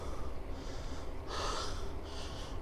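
A cyclist pants heavily out of breath, with three rough, breathy exhalations spaced about a second apart, close and fairly loud.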